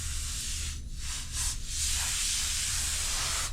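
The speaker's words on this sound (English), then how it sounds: "All right, so I'm going to do a final spray." A close, steady hiss of compressed air from an air duster blows dust off an A2289 LCD panel assembly, with a few brief dips early on before one long continuous blast.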